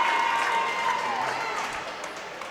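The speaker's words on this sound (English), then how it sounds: "Crowd's excited about it" Crowd at a college hockey game between the CSU Rams and Midland University cheering and applauding loudly, a dense steady roar with a whistle-like tone early on, easing slightly toward the end.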